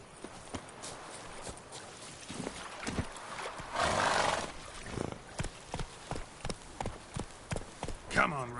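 Geralt's horse Roach gallops in The Witcher 3, with regular heavy hoofbeats up close, a loud neigh partway through and a rushing burst of noise before it, while a voice is also heard.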